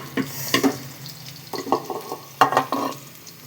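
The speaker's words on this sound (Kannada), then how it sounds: "ಸಣ್ಣದಾಗಿ ಹಚ್ಚಿರುವಂತಹ ಈರುಳ್ಳಿನ ಹಸಿಮೆಣಸಿಕಾಯಿನ ಹಾಕೊಂಡು ಈ ಥರ ನೀಟಾಗಿ ಬಾಡಿಸ್ಬೇಕು" Finely chopped onions and green chillies sauté in a pan for a bendekayi (okra) palya, with a low sizzle under clustered, close stirring scrapes and knocks of a spoon. No voice is heard.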